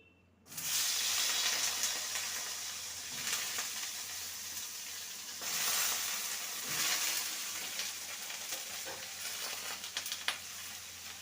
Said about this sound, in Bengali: সামান্য সর্ষের তেল দেব ওই তেলে বেগুনগুলোকে ভেজে নেব